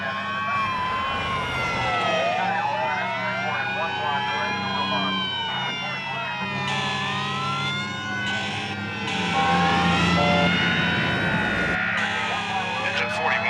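Fire engine siren wailing up and down at close range, layered with horn-like tones and rising in loudness near the end as voices talk underneath.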